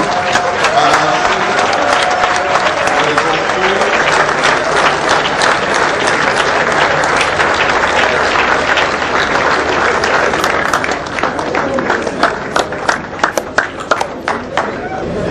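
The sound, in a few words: assembly applauding and cheering an agreement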